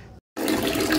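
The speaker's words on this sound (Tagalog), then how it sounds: "Ganito kahina ang tubig." Weak trickle of tap water running into storage drums, a steady close hiss-like flow that cuts out briefly before resuming at full strength.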